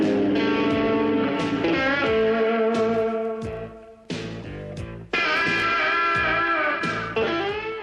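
An electric guitar with Seymour Duncan pickups, played through an amp: a run of ringing, sustained chords and plucked notes with crisp attacks, loud and close, with no talking.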